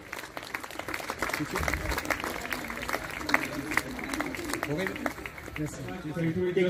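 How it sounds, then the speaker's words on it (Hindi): At a hospital celebration an audience claps for honoured guests, a fairly faint, scattered patter of hands that grows somewhat denser, with talk continuing over and under the applause. "तो कृपया इस मुस्कुराहट को दोबारा करें अपनी तालियों से"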